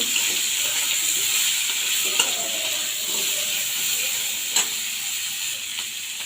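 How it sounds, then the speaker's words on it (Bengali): Crab sizzles and fries steadily in a hot pan with green chillies, a continuous bright hiss with a few small pops and stirring clinks, close and alone without talk. "এবার দেবো কাঁকড়াটা, দিয়ে ভেজে নেব।"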